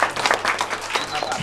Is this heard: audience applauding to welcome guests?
yes